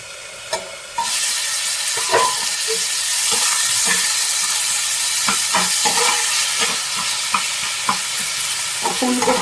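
Vegetables cooking in a covered pan give off a loud continuous sizzle and hiss, with scattered small clicks and taps throughout, close by and without speech.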